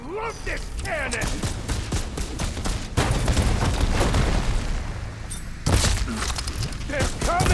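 A cannon weapon blasting repeatedly in Horizon Forbidden West, deep booms and explosive impacts with shattering debris in dense bursts, loud and up front, while a voice speaks over the action.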